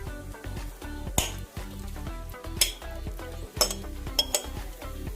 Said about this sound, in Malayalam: ഇതിലേക്ക് നമുക്കിനി മാരിനേറ്റ് ചെയ്ത ചിക്കൻ ഇട്ട് കൊടുക്കാം.